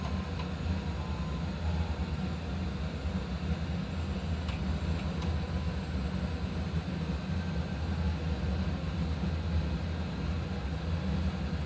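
In a flight simulator game, an airliner climbs to cruise altitude, giving a steady, even cabin and engine drone with no talk.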